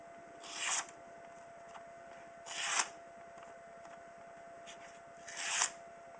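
A sharp balisong knife slices through a regular sheet of paper in three short, crisp rasping strokes, close and quiet, evenly spaced over a faint steady background hum.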